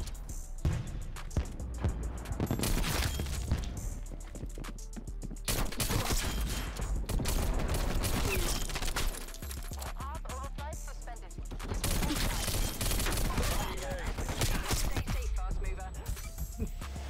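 Dual magnum pistols fired akimbo in the Black Ops Cold War video game, with dense rapid bursts of close, loud gunshots, brief pauses between volleys, and game effects and a voice talking underneath.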